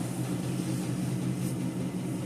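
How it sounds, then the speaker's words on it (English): Washing machine running at home as clothes are washed, a steady, fairly loud low hum and churning drone that continues without break. "I'm washing clothes."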